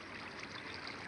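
Water pours and trickles in the Minecraft video game, a faint, steady running-water wash that continues without a break.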